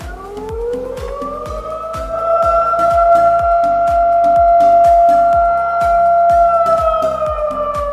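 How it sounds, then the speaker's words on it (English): The emergency siren of an amplifier-based automatic school bell system winds up in pitch and then holds a loud, steady, wailing tone for several seconds over a rhythmic pulsing beat, with no talking. "this is the emergency siren button used in a matter of emergency"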